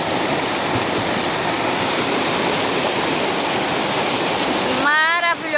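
Clear water of Córrego Fortaleza rushes steadily as a loud, broadband stream or small waterfall close by, with a brief voice near the end.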